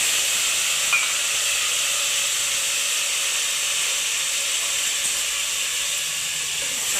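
A ground masala paste fries in oil for pea rice, giving a steady, hissing sizzle close up that stays even throughout.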